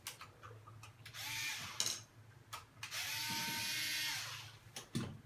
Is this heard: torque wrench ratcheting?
yes